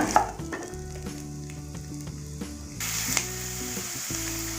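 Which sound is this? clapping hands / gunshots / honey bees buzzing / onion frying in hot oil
onion frying in hot oil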